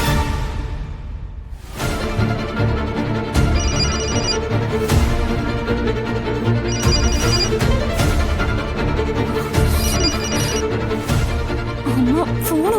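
A telephone rings repeatedly in an indoor drama scene, with bright, bell-like tones recurring in regular bursts over a background music bed.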